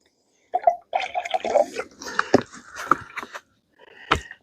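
Water being poured into a Jetboil pot for making coffee at an off-grid dugout camp, heard as a close trickling and splashing in several short bursts with brief pauses between them.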